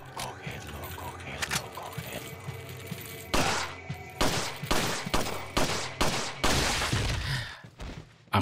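Weapons firing in the survival-horror game Resident Evil 4, a run of loud, sharp in-game shots in the second half, with irregular bursts following quieter background game ambience and some low voice-like sounds.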